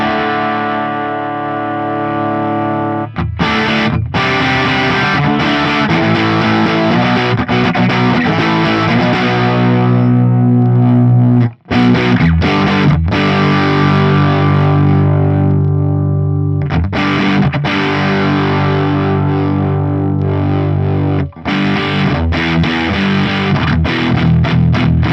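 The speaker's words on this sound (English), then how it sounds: "I'll push the drive a little bit and I'll show you how it distorts." Electric guitar on the bridge pickup played through an Axe-Fx III FET preamp drive pushed hard, giving a loud, saturated distorted tone with sustained chords and riffs, broken by a couple of brief pauses and no talking.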